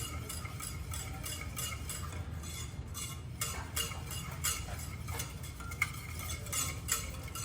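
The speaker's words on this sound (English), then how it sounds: "We'll stir this till it's shiny and fully melted." Spoon stirring melted chocolate icing for a Reese's peanut butter cup chocolate cake, a soft steady scraping with faint clinks against the bowl, close and continuous with no talk.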